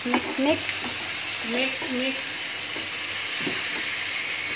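Ampalaya and carrots being stirred in a frying pan, a steady sizzle under soft scraping of the utensil, close and continuous with a few brief voice-like tones early on.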